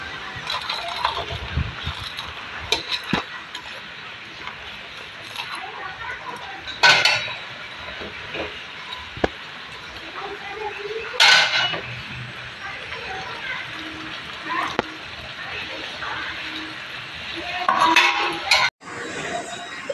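Fried fish and eggplant being added to a simmering fish curry in a pot, bringing clanks and clinks of a utensil against metal and a few louder knocks over a low bubbling hiss, close by, with talking at times.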